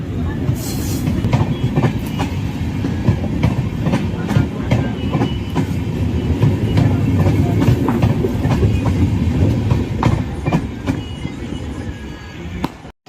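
The Mumbai to Howrah Gitanjali Express runs on rails near Nagpur, giving a loud, continuous close-up rumble with rhythmic clickety-clack wheel beats and occasional squeals for about thirteen seconds.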